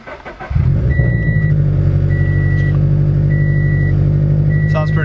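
A car engine with a new exhaust turns over and settles into a loud, steady idle with a deep exhaust rumble, while a soft electronic chime repeats in the background.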